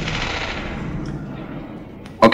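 A long range cannon fires in the space combat game Space Engineers, a fading booming tail followed by a sharp, loud burst of gunfire at the end.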